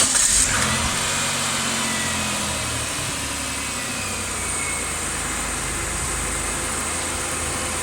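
A restored Chrysler Stratus engine cranks and fires at the start, then settles into a steady, close, continuous idle with no talking.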